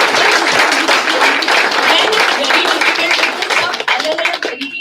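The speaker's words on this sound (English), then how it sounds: "Can we have an applause for all of them?" A crowd at a company all-India meet applauds award nominees with brisk, dense clapping that fades into a few scattered claps with faint voices near the end.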